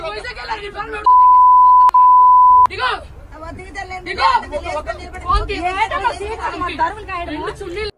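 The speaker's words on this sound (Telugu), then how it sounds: "మేము వాటిని డైరెక్ట్ గా ప్లే చేయలేక బీప్ వేయవలసిన సందర్భం అయితే వస్తుంది" A loud, steady censor bleep tone blots out a woman's abusive words on a news report about the free bus scheme. The beep runs about a second and a half with a brief break, then agitated talk resumes over a busy crowd babble.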